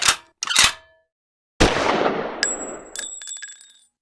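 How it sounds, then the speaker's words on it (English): Sig P365 Gen 2 pistol firing 115 grain PPU rounds, sharp close reports with ringing echo tails, two quick shots followed after a pause by a string of three more, loud and alone. "we're going to shoot rounds 250 through 500 through the Sig P365, and the ammo we're shooting today is 115 grain PPU"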